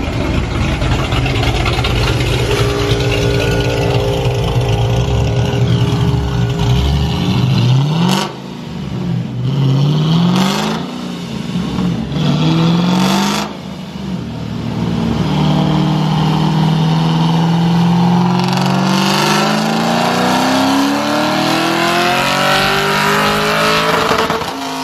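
A boosted Ford 3V engine on a dyno roars loudly, climbing through repeated rising revs with short drops between them, then a long sustained pull, close and alone.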